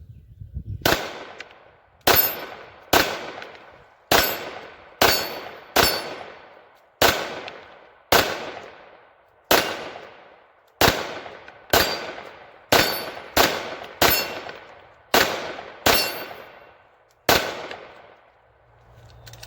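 Taurus TH9 9mm full-size pistol firing about sixteen sharp, loud shots in a steady, slightly irregular rhythm, each crack followed by a short ringing decay, with no talking.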